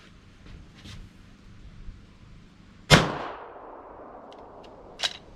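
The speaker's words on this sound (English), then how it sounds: "it didn't have any problems firing the wrong size cartridge there" A single sharp, loud report from a PSA Dagger pistol firing a wrong-size .380 cartridge, ringing briefly before fading, with a fainter metallic click a couple of seconds later.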